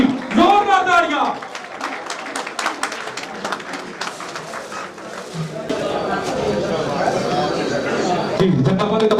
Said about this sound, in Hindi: जोरदार तालियां